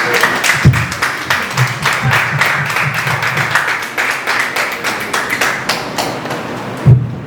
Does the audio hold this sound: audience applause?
yes